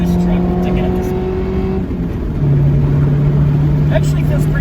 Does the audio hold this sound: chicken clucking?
no